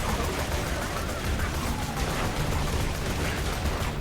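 A cannon turret in the video game Borderlands 2 fires continuously, a dense, rumbling barrage of gunfire and blasts that fills the whole stretch at a steady, moderately loud level.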